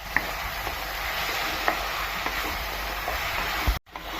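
Eggplant and tomato chutney fries in oil with a steady, close sizzle while a spoon scrapes and stirs now and then, ending in a sharp clunk.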